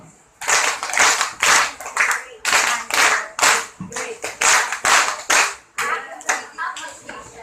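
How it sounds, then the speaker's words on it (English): Loud, close clapping from a debate audience in uneven bursts, hands striking rapidly with brief pauses between rounds. "let's give everybody a great claps to everyone."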